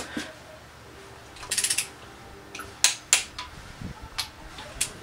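Torque wrench clicks and ratcheting while tightening cylinder head bolts on a 3800 L67 engine, a scattered series of sharp metallic clicks and taps, close and fairly quiet, no talking.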